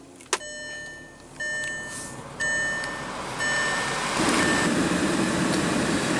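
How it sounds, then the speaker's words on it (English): Inside a 2014 Volkswagen Touareg with a 3.0 L TDI diesel V6, a series of steady electronic warning chimes sounds before the engine cranks and settles into a rougher, louder diesel idle near the end. "what you're hearing is that 3-liter TDI clean diesel engine"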